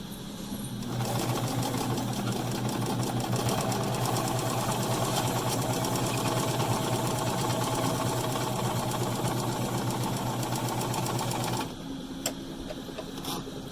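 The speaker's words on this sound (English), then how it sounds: "I'm going to add the other stitch like I did on this one just to secure it" Sewing machine stitching a fabric face mask, a steady, rapid mechanical whir running for about ten seconds close by, then stopping abruptly with only faint handling noise after.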